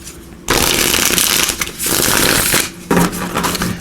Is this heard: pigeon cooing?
no